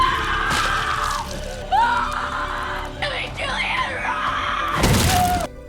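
A woman lets out long, shrill, piercing screams in the horror film Terrifier 3, over a dense, loud soundtrack with crashing, shattering impacts and a sharp burst near the end.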